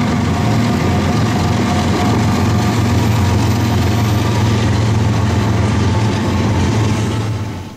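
A Norfolk Southern AC44C6M locomotive hauls a train up a long 10-mile grade, a loud, steady low engine roar with rumbling that holds constant throughout and fades slightly at the very end.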